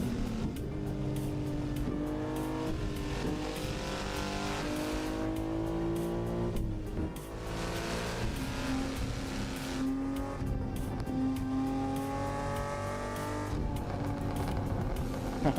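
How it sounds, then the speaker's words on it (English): A tuned-turbo Volvo S60R driving at night, its engine droning steadily with rising and falling pitch as it changes gear, continuous and fairly loud inside the car with no talk. "My S60R has a turbo, but it's just it's a tuned turbo,"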